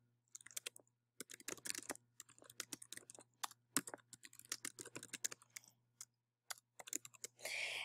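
Quiet, close typing on a computer keyboard, with irregular bursts of key clicks separated by short pauses and a faint steady hum underneath.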